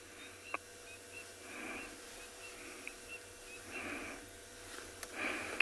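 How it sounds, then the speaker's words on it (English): Coqui francolins call far off at sunset on a safari at Tswalu, producing faint, breathy phrases that repeat a few times over quiet background hiss. "You can hear the birds at a distance. Cocky francolins."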